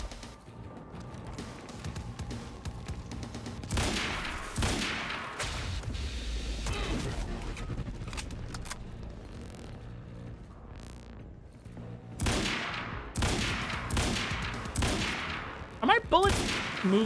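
Gunfire rattles in the video game Quantum Break during a finale battle, with bursts of rapid shots and heavy impacts clustered in several volleys, alongside a speaking voice.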